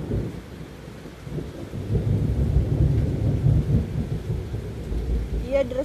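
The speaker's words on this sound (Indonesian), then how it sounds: "Petir." Heavy rain pours steadily while thunder rolls in a long, deep rumble that builds and lingers, fairly loud and close, with no speech over it.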